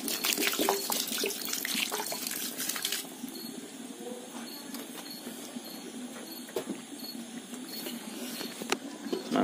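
Water poured from a tap into a pot of meat curry, a loud steady gush for the first few seconds, then a softer continuous trickle with faint clinks of the pot.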